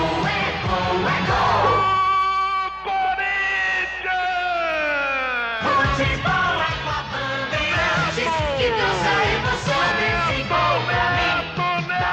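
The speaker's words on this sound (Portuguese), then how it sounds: "Jorge levanta a torcida corintiana no Pacaembu" A football crowd at Pacaembu roaring for a Corinthians goal, a dense sustained mass of yelling and whooping with rising and falling shouted cries layered over a broadcaster's voice.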